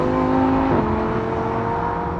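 A Lamborghini engine drones loudly and close, its pitch dropping briefly as if shifting, then holding a steady low roar.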